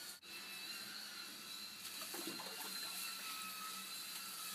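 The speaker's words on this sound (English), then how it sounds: "Just run some water in there." Tap water runs in a steady, close rush while parts of a Sunsun HW-304B UV canister aquarium filter are rinsed by hand, with a faint splashing texture and no voices.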